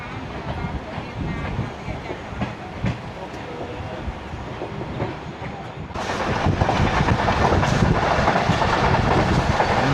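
Hazara Express passenger train in Pakistan running at about 110 km/h, heard from inside: a continuous loud roar of wheels and rushing air with rhythmic clatter, growing louder and denser partway through.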